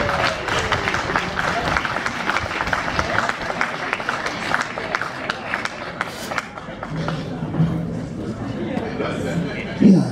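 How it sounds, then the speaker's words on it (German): Audience applause for a blues one-man-band musician at a live blues concert in Eutin, steady dense clapping from a crowd that tapers slightly near the end, with a voice talking over it. "so viel Beifall und noch nicht ein Ton gespielt"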